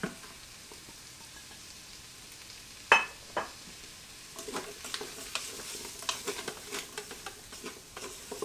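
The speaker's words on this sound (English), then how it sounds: "Give it a nice stir." Pork ribs coated in spice rub are stirred inside a pressure cooker, giving faint scraping and light pattering clicks, with a sharper knock near the middle and a run of soft irregular taps toward the end; no one speaks.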